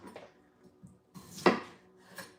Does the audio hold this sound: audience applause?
no